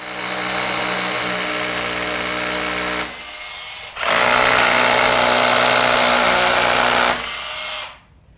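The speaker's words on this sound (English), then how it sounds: "I'm now ready to drill" Power drill boring holes for wall plugs while thermal boards are fitted: two loud sustained whines, the first about three seconds, a brief near-stop, then a second longer burst before the motor winds down.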